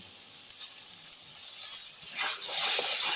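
Ginger, garlic and onion frying in oil: a steady soft sizzle that swells into louder hissing toward the end, close and alone.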